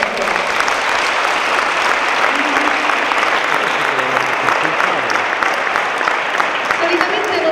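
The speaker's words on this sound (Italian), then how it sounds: "vi richiedo un forte applauso per il consorzio" Dense, sustained applause from an audience at a volleyball team presentation in Lamezia Terme, loud and continuous with a few voices mixed in.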